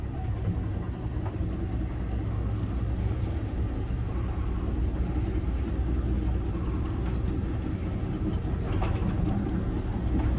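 Aboard Amtrak's Pennsylvanian passenger train rounding Horseshoe Curve near Altoona, the cars rumble steadily over the rails, a continuous loud low roll with faint clicks and no talk.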